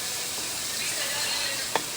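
Mutton meat hitting hot oil warmed with cardamom in a pan, a loud, steady hiss with a brief clatter near the end.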